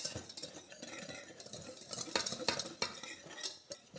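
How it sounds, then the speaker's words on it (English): Dry pudding ingredients being mixed together in a pot in a home kitchen, heard as a steady, close scraping and stirring with occasional light clinks of a utensil against the pot. "And so we mix together the dry ingredients"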